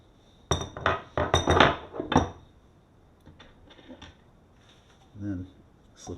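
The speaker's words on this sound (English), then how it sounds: "I've got a crescent wrench that I'm using for it. And then you're just going to jam the nut against the bottom of the insert." A crescent wrench jams a nut against the bottom of a Mk3 RS shift knob insert, giving a cluster of sharp metallic clinks followed by a few fainter taps and a soft knock, with no voices.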